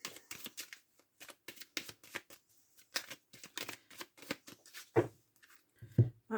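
A deck of oracle cards is cut and shuffled by hand, giving a quick run of close, crisp card flicks and riffles with brief pauses and a couple of soft thumps near the end.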